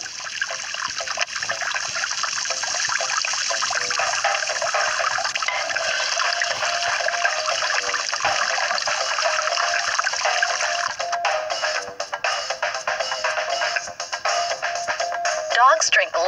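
Water pours steadily into a dog's bowl in a continuous, fairly loud splashing stream that carries on for many seconds, turning choppier toward the end.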